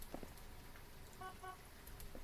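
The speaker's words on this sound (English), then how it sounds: "A lucky honk." A car horn in a Phasmophobia ghost-hunting game toots briefly, a short faint honk amid a quiet, dim background with small scattered clicks.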